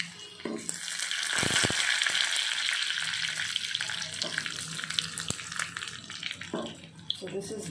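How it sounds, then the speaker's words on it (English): Garlic frying in oil gives a loud, dense, steady sizzle close up, with occasional clicks and knocks of a utensil against the pan. "So let the garlic fry."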